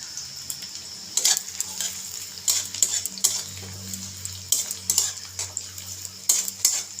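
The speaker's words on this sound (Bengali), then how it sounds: "এখন পেঁয়াজটাকে একটু হালকা লাল করে ভেজে নেব" Chopped onion fries in a pan until lightly reddened, for a kechki fish and eggplant dish, with a steady hiss of sizzling oil broken by repeated sharp clanks and scrapes of a spatula stirring against the metal.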